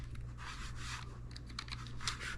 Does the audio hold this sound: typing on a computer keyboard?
yes